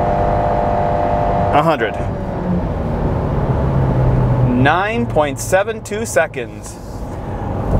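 A 2021 Subaru Impreza accelerates at full throttle, its engine a rising steady drone running throughout, while people talk loudly over it in bursts.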